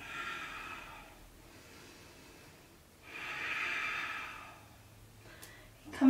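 Slow breaths during a vinyasa yoga flow, two soft, airy exhalations a few seconds apart, close and quiet, ending with a short sharper sniff.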